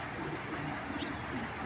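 Original foreign pigeons of a Bidar line coo softly and repeatedly, their low murmuring calls blending into a constant background hiss.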